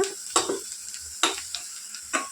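Onions that have just begun to colour fry in a pan for a bachelor-style egg curry, a constant close sizzle punctuated by four sharp spoon scrapes at regular intervals.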